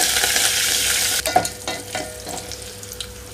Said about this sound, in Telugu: తాలింపు కొంచెం వేగనిస్తున్నాను